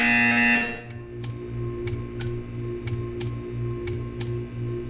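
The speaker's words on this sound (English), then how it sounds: "You will hear a buzzer. When you hear the buzzer, stare at the art." A buzzer in the video game Portal 2 pulses in a steady run of about eight short, sharp beats, roughly twice a second, over a low mechanical hum after a brief louder tone at the start.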